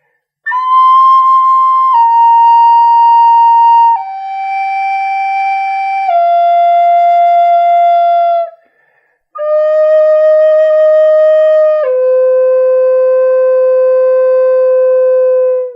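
An end-blown spirit flute plays slowly down the scale, with pure sustained breathy tones stepping lower one note at a time and a short breath pause partway through, clear and close.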